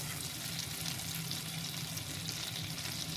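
Cumin seeds and a bay leaf sizzle in hot oil or ghee, a steady faint hiss of frying that continues evenly without talk.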